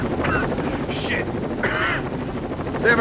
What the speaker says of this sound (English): They have a combat chopper in here!